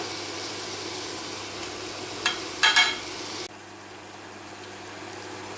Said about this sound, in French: on vient cuire l'oignon et les poivrons.